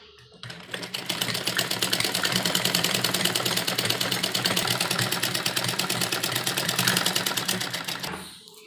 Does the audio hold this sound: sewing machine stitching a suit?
yes